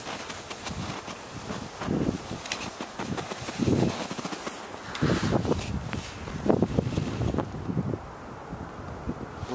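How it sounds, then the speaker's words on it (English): Wind buffets an outdoor microphone in bitter cold at a small park in Fairbanks, Alaska, a steady rumbling roar with louder gusts throughout, no speech. "Wind's still blowing."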